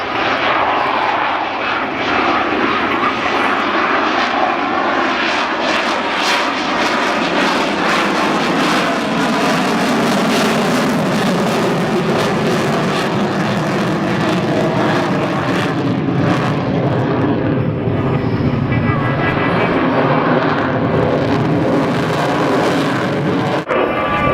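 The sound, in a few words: aircraft flying low past at an airshow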